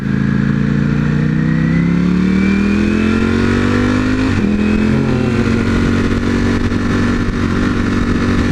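A Mercedes AMG car engine drones loudly while driving, its pitch climbing steadily as it accelerates, then a brief dip at a gear change before the steady roar carries on, alone without voices.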